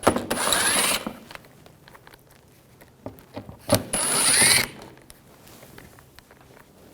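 A ratchet turns a T25 socket to remove screws on a 2011-2018 Volkswagen Jetta TDI wagon, two bursts of rapid clicking close to the microphone separated by quieter handling noises.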